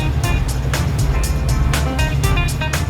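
A 1989 Land Rover V8 off-roader ploughs through mud, its engine roaring close and loud with a low rumbling drone and rhythmic bursts of splashing and thumping as the tyres churn.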